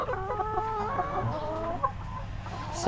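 Chickens clucking nearby at feeding time, a run of soft, repeated, wavering clucks over a low background hum, fairly faint, with no talk.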